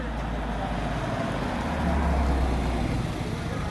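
A steady road-vehicle rumble on a village road on a winter night, swelling slightly midway as a motorcycle and then a car go by nearby, with no speech.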